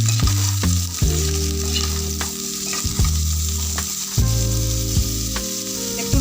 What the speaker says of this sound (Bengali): পেঁপে আর গাজরটাকে ভেজে নেব। অল্প একটু ভেজে নেব।